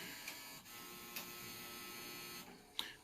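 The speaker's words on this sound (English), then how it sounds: "That's actually the printer that's going in this room that they're letting me use." A printer runs steadily in a room, giving a continuous mechanical whir and buzz with a few brief clicks and pulses over about three seconds, faint and close.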